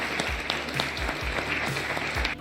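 Applause greets the new head coach of Chile's national football team, La Roja: a steady, dense wash of clapping from a crowd, holding at an even level throughout with a few low thumps underneath.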